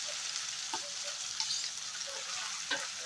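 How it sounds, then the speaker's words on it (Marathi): Finely chopped onion, one large one, frying in a pan after a little asafoetida, with a steady close sizzle and occasional light stirring taps throughout, no talk. "त्यातच टाकणार आहोत आपण 1 मोठा कांदा बारीक चिरलेला"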